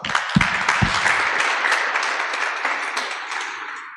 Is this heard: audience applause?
yes